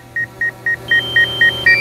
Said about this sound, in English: we're getting all kind of buzzers and warnings going off here